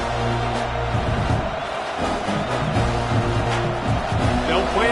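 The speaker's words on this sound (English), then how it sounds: "This crowd trying to do its part to get inside the kicker's head." Stadium crowd roar from a Madden football video game during a field goal attempt, a steady, dense wash of voices that swells and holds throughout with commentary spoken over it.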